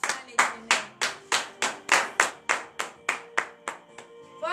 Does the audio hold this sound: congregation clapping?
yes